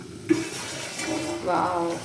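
Sardine (mathi) fish curry simmering in a pan, a soft steady bubbling hiss with a brief clink near the start.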